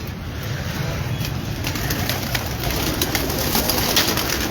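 A flock of antique Ferozpuri pigeons cooing together in a loft, a dense steady murmur of overlapping coos with a constant hiss of background noise behind it.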